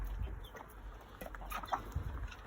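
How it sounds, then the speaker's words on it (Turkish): Village chickens and blue-egg laying hens wander a garden on a morning outing, giving faint, scattered clucks and short calls against quiet outdoor background noise. "Evet burada köy tavukları, mavi yumurta tavukları mevcut"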